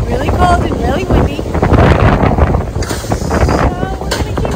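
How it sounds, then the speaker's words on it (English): Strong wind buffets the microphone with a constant roar while a person talks over it. "It's getting really cold and really windy."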